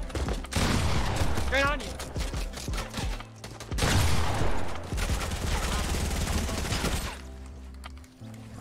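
Rapid bursts of gunfire from the video game Fortnite, loud and dense, with repeated volleys and scattered single shots over several seconds while players talk over them.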